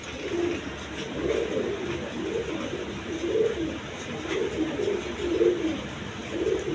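Healthy pet pigeons coo repeatedly in soft, rhythmic bursts, fairly close but quiet, over a low background hum.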